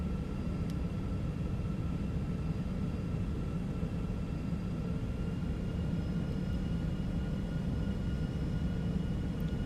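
Airliner rolling takeoff in X-Plane 12, a constant deep engine roar and rumble on the runway with a faint tonal whine above it, steady and unbroken.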